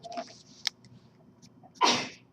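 A single sharp human sneeze bursts out close by in a quiet classroom during a math lecture, preceded by faint small noises.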